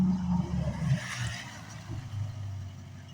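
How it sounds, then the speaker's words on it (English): Truck passing along a residential street, a mid-pitched engine rumble that rises and fades over a few seconds at moderate distance, with traffic noise in the background and no talking. "another truck coming on"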